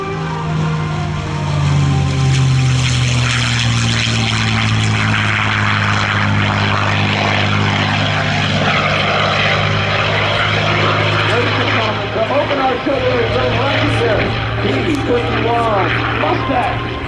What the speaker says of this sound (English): You'll find the P-51 Mustang on final approach.